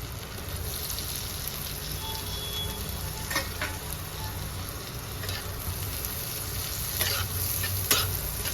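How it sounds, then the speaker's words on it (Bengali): Chopped onion and tomato sizzling and frying steadily in a pan for jackfruit do pyaza, with occasional stirring scrapes and clinks, close and continuous with no talk. "এগুলো আমি একদম হালকা করে একটু ভেজে নেব"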